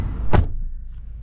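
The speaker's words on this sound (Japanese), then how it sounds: "でドア閉めた音" The rear door of a Lexus LX570 SUV shuts with a single solid, muffled thud heard from inside the cabin, followed by quiet interior stillness.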